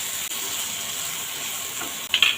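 A spiced kachki fish mixture is stirred in a hot pan, giving a soft continuous sizzle with light scraping and a brief sharper clatter at the very end; no talking.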